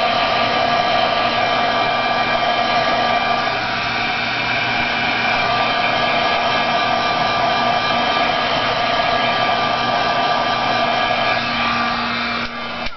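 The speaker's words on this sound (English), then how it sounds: "just applying a little bit of heat to it, waving it at the same time so that I don't melt the plastic" A handheld heat tool blows steadily over archival ink on plastic, a loud, constant whirring hum with a slight whine that holds unchanged for thirteen seconds before clicking off at the end.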